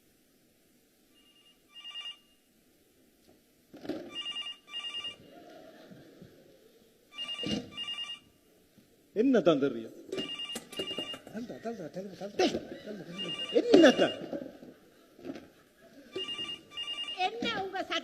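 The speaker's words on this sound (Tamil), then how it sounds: "என்னடா டெலிபோன் அடி அடி என்று அடிக்குது?" An old telephone bell rings in several short bursts indoors during a comedy sketch, while people talk and react over and between the rings.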